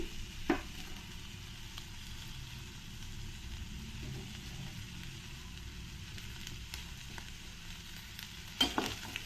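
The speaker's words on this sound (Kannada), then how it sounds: "ಬಟಾಣಿ ಫ್ರೈ ಆಗೋವಾಗ್ಲೇ ಅದಕ್ಕೆ ರುಚಿಗೆ ಅಗತ್ಯ ಇರೋಷ್ಟು ಉಪ್ಪನ್ನ ಸೇರಿಸ್ತಾ ಇದ್ದೀನಿ" Soaked dried peas fry in a pan of oil with salt added, giving a soft, steady sizzle punctuated by a few faint clinks of stirring.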